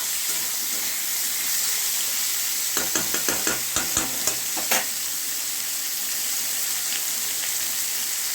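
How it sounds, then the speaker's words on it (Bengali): Red potatoes and carrots frying in a pan, a steady broadband sizzle with a brief burst of stirring clatter in the middle, close and fairly loud with no talk. "লাল আলু দিলাম, এই গাজর দিলাম।"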